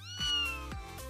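A cat gives two clear, close meows in quick succession, the first longer and rising, with no talking over them.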